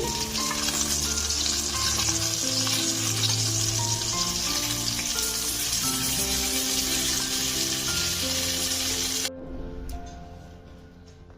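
Tomato frying in hot oil for a thin katla fish curry makes loud, continuous sizzling that stays close and even, then cuts off near the end, leaving a faint quieter tail.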